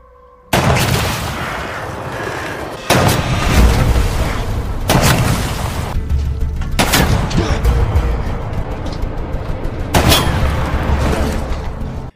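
German sniper gunfire in a World War I film scene sounds as a series of sharp, loud shots and booms at irregular intervals over a dense rumbling battle background, with no speech.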